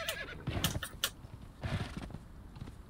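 Horse in Conan Exiles neighing and clopping, hooves striking in uneven clusters with a whinny near the start, moderately close with no talk over it.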